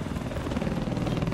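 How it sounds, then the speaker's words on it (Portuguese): An attack helicopter in a video game match on the Firestorm map gives a loud, close, steady rotor thump with rhythmic chopping over a dense engine drone. "Esse patch que deu uma mobilidade maior pro helicóptero."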